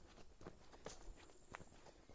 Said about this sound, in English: the only sound is the sound of my own footsteps